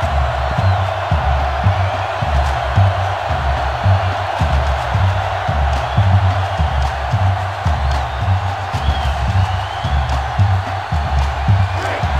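Stadium crowd noise in the NCAA Football 2005 video game, a sellout crowd roaring in a dense continuous wash, with a rhythmic thumping chant or drumbeat pulsing steadily beneath it.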